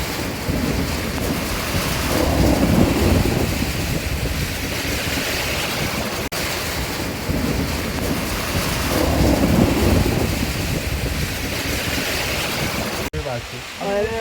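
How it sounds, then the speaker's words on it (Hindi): Heavy mountain rain on the route from Munsiyari to Khalia pours down in a continuous loud roar, with gusts of wind surging and fading across it and a brief clattering sound near the end. "बहुत बारिश हो रही है।"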